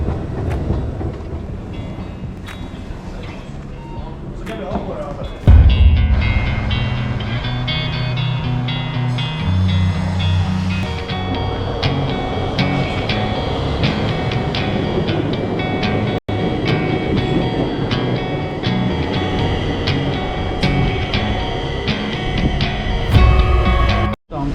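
A metro train rides steadily along its track, with loud continuous rumbling and rattling throughout, a brief jolt near the start and clacking along the way.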